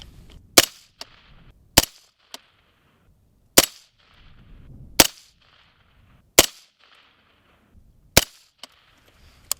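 Suppressed Bushmaster rifle firing through a MUTA suppressor, outdoors in winter: six sharp, separate cracks spaced a second or more apart, loud and close, with quiet rustling between them.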